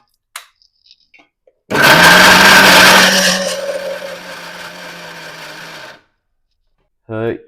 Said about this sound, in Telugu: మిక్సీ గిన్నెలు కూడా తిరగాలి కదా